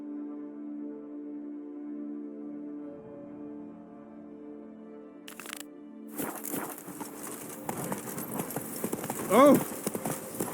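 Hoofbeats of a horse in The Witcher 3 game come in after a quieter stretch of steady music, a rapid clopping rhythm mixed with game sound effects and a brief burst of noise.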